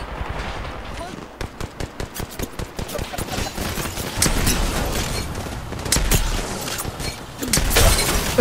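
In an online shooter game, rapid gunfire rattles in quick bursts while an enemy's shield cracks and shatters, loud and close, with voices talking over the action.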